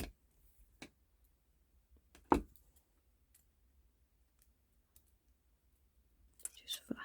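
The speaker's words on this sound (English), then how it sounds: "I'm going to cut that weaving wire there and the tail end at the beginning" Wire cutters snip weaving wire on a wire-wrapped pendant, giving a few sharp, isolated clicks spaced across a quiet stretch, with a busier cluster of small metallic clicks near the end.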